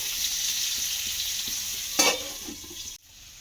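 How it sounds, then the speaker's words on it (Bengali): Potatoes fry in hot oil in a pan, a loud continuous sizzle with a brief stir or clatter near the end before it drops quieter, no voices. "আলুটাকে লাল লাল করে ভেজে নেব"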